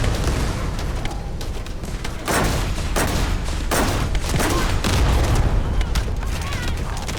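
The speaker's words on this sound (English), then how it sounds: "Let's try this rocket launcher." Rocket launcher fire in Space Marine 2, loud booming launches and blasts repeating every second or so over a constant roar of combat, with a voice talking at times.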